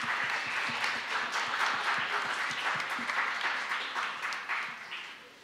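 Audience at a school quiz bowl event giving a round of applause, distinct individual claps rising and then gradually tapering off, fairly close and alone without talk.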